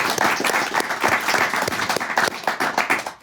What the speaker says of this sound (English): Let's clap it up for our panel.